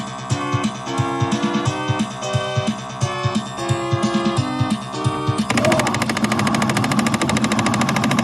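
Arcade light gun with solenoid recoil during a mechanized shooting game, rapid repeated mechanical thumps over loud game music and gunfire effects, shifting to a denser burst of continuous firing partway through.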